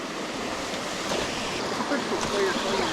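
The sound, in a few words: small creek flowing near waterfalls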